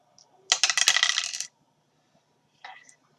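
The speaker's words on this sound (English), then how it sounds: "for each bullet you roll a dice to see if you can hit" Dice roll and clatter on a table during a Resident Evil 2 board game: a close, bright burst of rattling clicks lasting about a second, then a brief second tumble after a pause.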